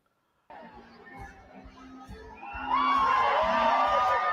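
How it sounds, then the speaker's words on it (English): A crowd cheers someone named Smoke on, starting as scattered chatter and shouts, then swelling into loud, sustained cheering and whooping with children's voices. "Yeah, why y'all cheer him on?"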